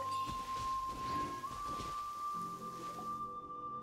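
Steady rain hisses faintly in the video game Genshin Impact, a soft continuous wash with a low rumble, before cutting off abruptly near the end.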